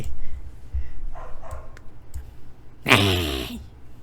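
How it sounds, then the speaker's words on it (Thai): A dog barks indoors in a home setting, a few faint scattered yaps early on, then one louder, closer bark-like cry near the end, over a low background hum. "หมาเห่าเฮ้ย ลำคาญ"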